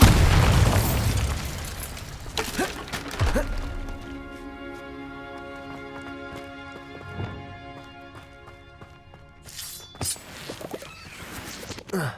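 A Bombarda blasting spell from Hogwarts Legacy goes off with a loud burst and boom at the start, followed by a resonant magical shimmer that rings and slowly fades, with further game sounds near the end.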